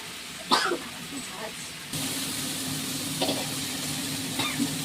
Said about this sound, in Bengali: সব মশলা দিয়ে দিলাম, এবার একটু কষাই